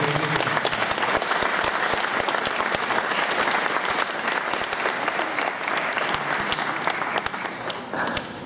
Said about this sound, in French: Philippe Chevalier, sous vos applaudissements.